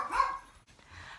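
A short dog bark rings out at home as the dogs announce someone arriving, one sharp bark followed by a fainter second yip, moderately distant with no talk.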